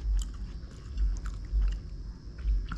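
Crunchy chewing of a burger filled with a sweet sauce, with several loud bites and mastication bursts falling in a steady rhythm close to the microphone, and no talking.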